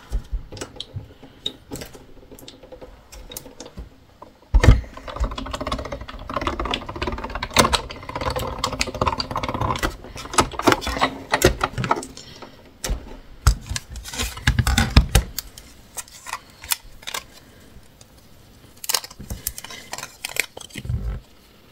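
A paper sheet is run through a die-cutting machine for scrapbooking boxes, giving irregular clicks, rattles and crunchy mechanical rolling that build in dense bursts through the middle and thin to sparse taps near the end, with no voices.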